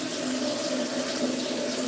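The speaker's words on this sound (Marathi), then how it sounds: "त्यामुळे मला पाणी भरावं लागतंय" Water runs steadily from a tap into a container at home in Pune, a constant close rushing splash with a hollow filling resonance and no talk.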